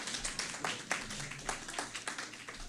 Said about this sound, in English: I don't know what the applause was about